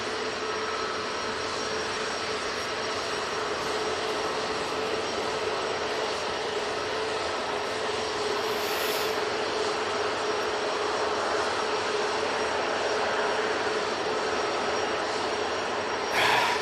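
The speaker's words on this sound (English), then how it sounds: "EasyJet lined up, ready to go. Off to Alicante using an A320neo." An EasyJet Airbus A320neo bound for Alicante takes off from Manchester Airport, its engines making a constant broad roar with a steady high whine, loud and unbroken throughout, without any talking.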